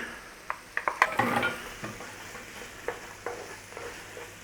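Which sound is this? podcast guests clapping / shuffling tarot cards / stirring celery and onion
stirring celery and onion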